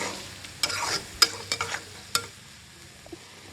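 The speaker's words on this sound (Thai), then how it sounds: "จากนั้นก็ผัดเล็กน้อยค่ะ" Beef stir-fried with soy sauce, sweet dark soy and sugar in a pan, with a soft sizzle broken by several sharp utensil scrapes and clacks against the pan, spaced irregularly, and no voices.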